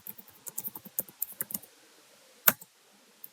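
Quick bursts of typing on a computer keyboard, a run of light key clicks followed by a single louder tap and a faint final keystroke, close and otherwise quiet.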